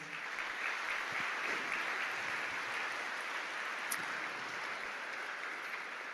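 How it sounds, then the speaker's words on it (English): A breakfast education awards crowd applauds its judges with steady, sustained clapping that holds at an even level for several seconds, dense and continuous from many hands in a large room. "put your hands together and give them a warm round of applause"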